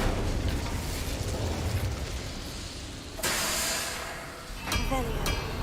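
An Incendio fire spell cast in Hogwarts Legacy, a sudden whooshing burst of flame that flares up midway over a constant background rumble, followed by a second, shorter flare.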